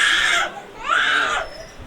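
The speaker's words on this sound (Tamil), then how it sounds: "தவிர்க்க முடியாதது பச்சை குழந்தையின் அழுகை." A newborn infant cries in two drawn-out wails, a fairly close and moderately loud bawling with a short pause between them and no talking.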